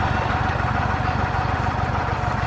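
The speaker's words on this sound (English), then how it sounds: "let me kill this engine" A 2015 BMW K1600 GTL motorcycle idles close by, its engine giving a steady, even low rumble with a fast regular pulse throughout and no talking over it.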